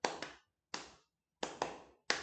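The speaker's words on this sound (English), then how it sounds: "that even has the hand clapping" Hand claps from an early-1960s guitar pop song, sharp and close, arriving in pairs and singles with brief silences between them.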